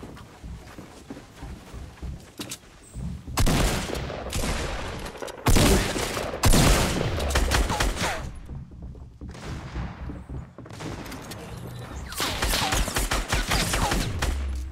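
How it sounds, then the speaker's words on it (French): Enemy gunfire in the video game Fortnite comes in repeated loud bursts and volleys, separated by short quieter gaps and carrying sharp cracks and rattling automatic fire. "Y'a un mec sur moi, il me tire."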